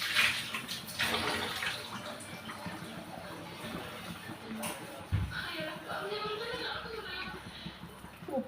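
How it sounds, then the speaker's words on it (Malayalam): Water is poured into a pot of Mangada fish curry with ground coconut masala and tamarind, making a soft, continuous splashing trickle under a person's voice. "വെള്ളം ഒഴിക്കാനാണ്."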